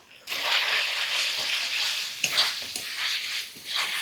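Meat frying in a pan with turmeric, Kashmiri chili powder and tomato, a continuous loud sizzle with bursts of stirring and scraping throughout.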